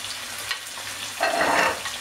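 Vegetables for a vegetable tortilla sautéing in a pan, a soft hiss that swells into a louder crackling sizzle as more vegetables go in, close and alone without talk.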